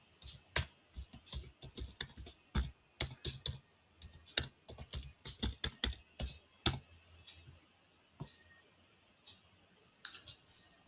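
Fingers type a password on a computer keyboard, a close, crisp run of quick uneven key clicks that bunches into bursts and thins out toward the end, with no voice.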